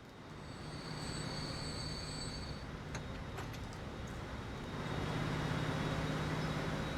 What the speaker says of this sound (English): Here comes our new expensive train.